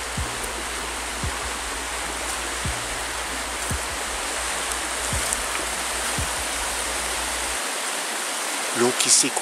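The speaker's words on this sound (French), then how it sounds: "L'eau qui s'écoule." Water of a forest stream flowing steadily, a loud, continuous rushing wash heard up close with a few faint knocks and no talk.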